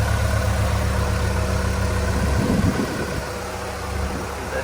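A 1998 Honda Integra Type R engine idles steadily, a loud, close, even drone with a slight dip in level partway through and no voices over it.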